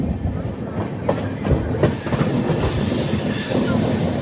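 The Pinakini Superfast Express runs through Gudur Junction, its wheels squealing and the rails clacking in a steady, close, loud rush.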